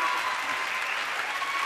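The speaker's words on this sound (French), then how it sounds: "Applaudissements, mesdames, messieurs, Morane, Charles." Brief burst of audience clapping, steady and fairly even, from a sizable crowd without voices standing out.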